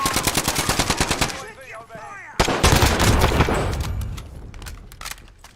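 AK-74 rifle fire in a video game comes in rapid automatic bursts, a tight rattling string of shots, then a pause and a second louder flurry with heavy echo and scattered gunfire trailing off.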